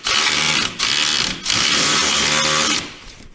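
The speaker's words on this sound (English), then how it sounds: "the socket that we need to use is the ever elusive 10 millimeter" A power tool with a 10 millimeter socket whirs loudly in three sustained bursts, driving M6 bolts on ski skin accessories for a 2023 Ski-Doo Expedition SWT snowmobile, close and harsh with brief gaps.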